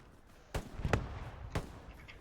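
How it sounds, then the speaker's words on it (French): Distant gunfire in the game Hell Let Loose, with two sharp shots about a second apart and a muffled thump between them, faint and echoing against a quiet background. "Ça tire encore."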